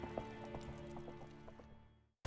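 Galloping horse hooves in The Witcher 3 beat out a quick, rhythmic clip-clop, fairly close and steady over a low hum before cutting off abruptly near the end.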